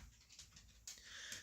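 A restless dog pants and whimpers close by, quiet breathy huffs with a faint whine, followed by a brighter rustling burst in the last half second.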